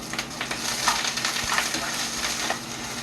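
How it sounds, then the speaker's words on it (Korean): White rice cakes stir-fried in an oiled frying pan, with a steady crackling sizzle and scraping stirs and a few light clinks, close and continuous. "프라이팬에 기름을 두르시고, 하얀 것부터 볶을까요? 살짝만 볶으면 돼요."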